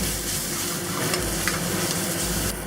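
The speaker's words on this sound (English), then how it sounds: "Add the ginger and garlic and the peppers. Cook this until this becomes aromatic." Ginger, garlic and peppers sizzle and fry in a pan, a dense continuous hiss with faint stirring scrapes throughout, close and fairly loud.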